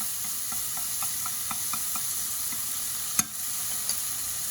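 Vegetables sizzling in a pan for crab fried rice, a steady bright frying hiss with a run of soft rhythmic stirring taps and one sharper clatter, no voices.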